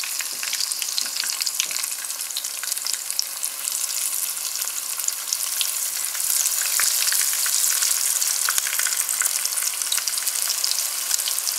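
Chicken fingers fry in a pan filled with oil over high heat, giving a dense, steady sizzle that crackles continuously throughout, close and fairly loud, with no talking.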